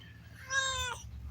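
A single short, clear cat meow, fairly close, over a low background hum.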